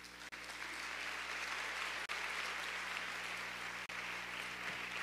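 A church congregation breaks into sustained applause, a thick, uniform clatter of many hands at steady volume, with a faint low hum beneath and a few brief dropouts.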